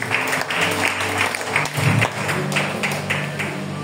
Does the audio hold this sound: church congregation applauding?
yes